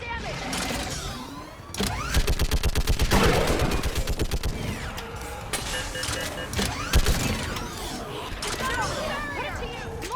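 Mounted gun firing in Mass Effect Legendary Edition during a barrier breach: a rapid, loud burst of automatic shots rattles out, then scattered blasts and mechanical whirs follow amid shouting voices.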